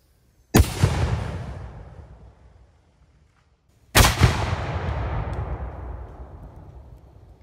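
Two separate firings of a 3D-printed rocket-powered tank round at 100 yards, each a sharp, loud blast followed by a long, rushing decay as the rocket motor burns. No one speaks.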